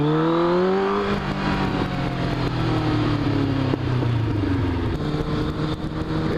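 Motorcycle engine running loud and close, a steady rumble with a brief rise and fall in pitch, heard alone.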